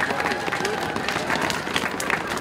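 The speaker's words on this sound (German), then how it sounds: "Applaus für die Lüderitzer Blaskapelle, herzlichen Dank und vielleicht nachher nochmal" An outdoor crowd at a St. Martin's bonfire gathering applauds the Lüderitz brass band with continuous scattered clapping under crowd noise and voices.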